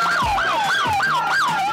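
An ambulance siren wails in a steady repeating rise-and-fall cycle with a police escort, loud and close, dominating the scene over low road rumble.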